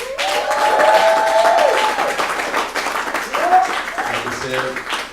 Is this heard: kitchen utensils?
no